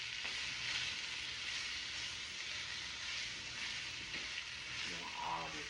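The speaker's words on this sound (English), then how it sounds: "make sure you put some flour on that onion so it can kind of fry it up" Flour-coated onions fry and begin to caramelize in a pan, giving a soft, even, continuous sizzling hiss with a faint voice briefly heard near the end.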